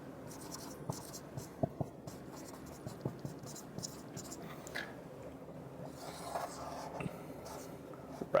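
Pen scratching out notes by hand on paper or a board while diet hormones are listed, with steady close scribbling strokes and small taps, quiet and without talk.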